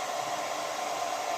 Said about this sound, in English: The hairdryer is helping, but it's very slow.